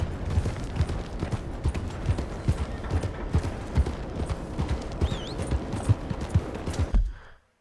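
Horse hooves clip-clop steadily on a trail in the Western game Red Dead Redemption, a dense, close, rhythmic patter of footfalls with other game sounds mixed in, stopping abruptly at the end.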